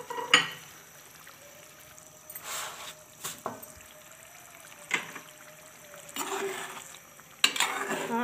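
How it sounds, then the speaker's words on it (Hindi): A spoon moves gently through chicken koftas in curry gravy in a pot. Occasional soft clinks and scrapes sound against a quiet kitchen hum, spread sparsely across the moment. "आपने इनमें बिल्कुल आराम से चम्मच चलाना है ताकि ये टूटे नहीं"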